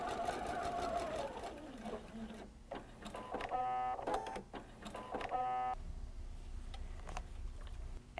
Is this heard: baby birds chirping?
no